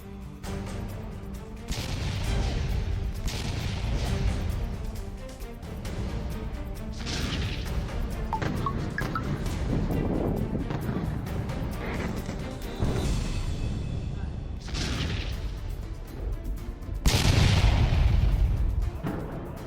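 Heavy booming blasts and crashing bursts repeat over a dense, rumbling background, with a particularly loud impact near the end.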